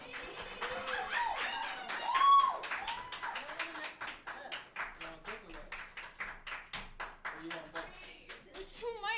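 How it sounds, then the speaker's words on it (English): An open mic audience claps in a fairly steady, rhythmic stream of hand claps under a voice, with a louder burst near the start that then settles into even pulses. "please give a round of applause to my homie, Bree Hill, who's coming up next"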